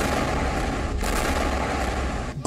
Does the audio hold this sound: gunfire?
yes